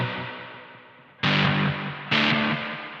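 Electric guitar struck twice through a reverb effect, each loud chord blooming and then decaying in a long wash of reverb tail; no voice, the first note already fading at the start.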